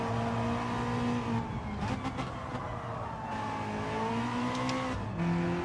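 A race car in a time-trial racing game, engine droning and revving steadily, with quick shifts up the gears cutting the pitch before it climbs again, loud and close throughout.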